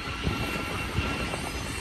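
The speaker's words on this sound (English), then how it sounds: "Intermodal train." BNSF intermodal freight train rolls by at Cajon Pass as a steady, distant rumbling wash with faint rail clatter, brief and uniform throughout.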